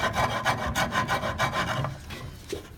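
A rasp is filed across wood at a fab lab, rounding over an edge toward a marked line, giving quick rhythmic rasping strokes up close that slow and fade into a few lighter passes.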